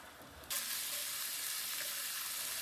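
Beef browning in a pan for stroganoff, a steady, close frying hiss that starts abruptly and then holds evenly, with no talk.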